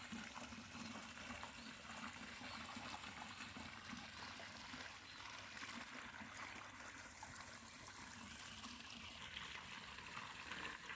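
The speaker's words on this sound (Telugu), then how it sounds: "మా మోటార్ నీళ్ళు అయితే ఇక్కడ ఇక్కడ దుంకుతున్నాయి" Water from a farm motor pump gushing out of an outlet, a steady loud rushing flow that continues unbroken throughout, heard alone without speech.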